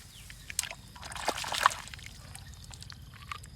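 Water splashing and trickling while a large sand-hauling dump truck gets washed, a soft, close sloshing pour with small splatters, loudest near the middle, set against steady low background rumble.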